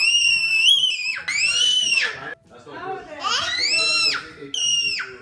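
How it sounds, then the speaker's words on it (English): A toddler yells and screams in loud, high-pitched bursts, with a few shrieks that tip toward laughter and short pauses between outbursts, close and dominant throughout. "Why are you yelling?"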